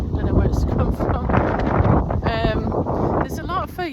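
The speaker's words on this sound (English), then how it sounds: "Sorry, it's very windy." Outdoor wind buffets the microphone with rumbling, gusty noise while someone talks over it throughout.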